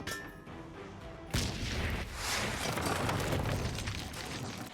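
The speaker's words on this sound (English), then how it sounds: "throw the propane right in front of them and detonate it with a firework" In the Hitman game a propane canister set off by a firework bursts into a loud, sudden explosion, and a long, roaring rumble follows and slowly fades.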